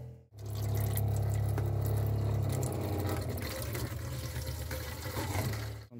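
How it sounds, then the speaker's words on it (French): A camper van's water pump kicks in with a steady low hum, and water runs from a tap, loud and continuous, the pump's drone wavering slightly partway through. "Tac, la pompe à eau se met en route."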